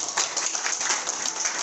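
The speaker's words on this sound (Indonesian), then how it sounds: "Tepuk tangan dulu dong untuk Nagaya." An audience clapping, a dense, steady wash of applause with no breaks, fairly close and loud, lasting the whole short stretch.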